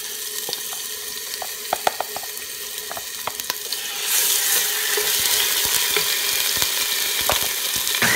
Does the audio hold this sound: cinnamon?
yes